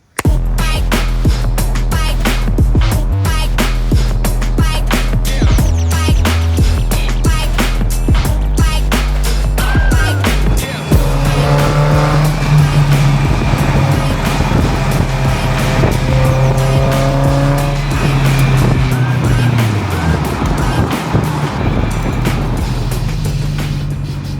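A Toyota Tacoma truck drives with a loud, continuous engine drone that rises and shifts in pitch as it moves, heard up close without talk.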